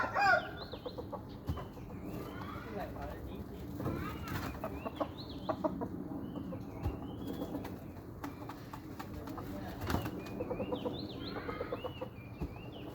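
A young fighting rooster clucks and crows in short broken calls, loud and close, repeated throughout with bird chatter and some people talking faintly in the background.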